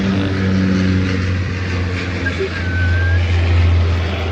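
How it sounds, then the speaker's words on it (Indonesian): Propeller airplane passing over a city park in Adelaide, a loud steady engine drone that fills the whole short stretch with light outdoor background noise. "Tunggu dulu, ada pesawat sebentar."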